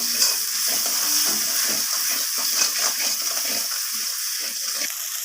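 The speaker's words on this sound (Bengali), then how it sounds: "লবণটা দেওয়ার পর আবারও আমি মশলাটাকে ভালোভাবে কষিয়ে নেব" Chicken curry spices frying in a pan after salt is added, a continuous close hiss of sizzling oil with faint stirring scrapes beneath, steady throughout and free of speech.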